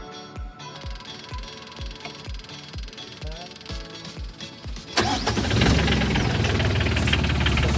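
A sailboat's inboard engine cranks with a steady series of heavy knocking turns, then catches and roars into a loud, rough running drone.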